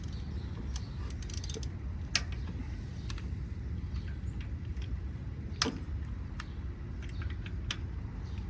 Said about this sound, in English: I'm gonna use a little extension, and I'm gonna use the wrench